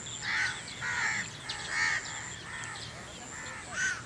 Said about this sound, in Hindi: तो उधर कौवे बैठे थे दरख्तों पे।